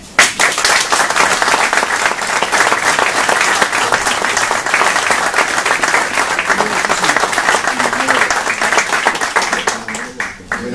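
A crowd applauds author Francisco Serrano at a book presentation, dense steady clapping filling the room from start to finish, with a few voices murmuring underneath before it thins out at the end.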